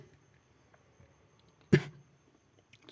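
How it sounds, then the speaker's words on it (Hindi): A single sharp cough from a man teaching a physics lesson, close and loud against quiet room tone, with no talking around it. "मुझे खांसी आ रही है"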